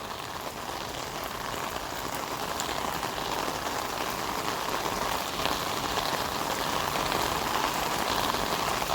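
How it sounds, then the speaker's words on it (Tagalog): Steady heavy rain pours down onto surfaces, a dense, even hiss of drops with no break throughout. "Grabe, lumakas ang ulan mga babayan."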